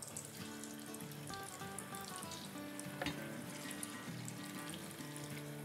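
Potatoes frying in hot oil for masala chips, a continuous faint crackling sizzle with a steady bubbling texture and one brief louder pop midway, no speech.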